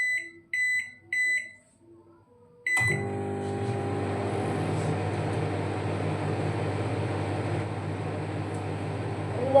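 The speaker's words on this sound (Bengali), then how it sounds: "সবজিটা গরম করে মাইক্রোওভেনেই গরম করে নিচ্ছি" A microwave oven reheating vegetables chirps three short beeps, falls briefly quiet, then clicks on into a steady low hum with a faint whir that runs to the end, close and without voices.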